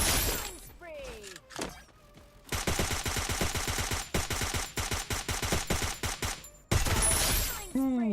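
Rapid bursts of gunfire in the Free Fire MAX video game rattle close and loud, with dense automatic volleys stopping and restarting, a few sharp single shots and a swooping effect tone near the end.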